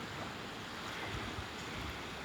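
Gentle sea waves wash against the shore in a faint, continuous hiss and rumble, mixed with some wind noise on the microphone and no voices.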